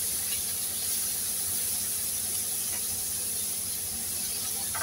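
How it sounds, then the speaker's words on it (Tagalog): Garlic and black pepper sauté in a hot pan, giving a steady, loud, unbroken sizzling hiss that holds evenly from start to finish with no voices. "Palihan natin ang bawang at paminta."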